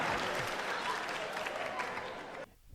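A stand-up comedy crowd at a Dave Chappelle show breaks into loud, dense applause and clapping. It rolls on steadily, then cuts off abruptly near the end.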